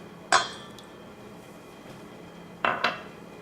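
Eggs cracked against a bowl while making pineapple cake batter, three sharp taps: one early, then two close together near the end, with quiet kitchen room tone in between.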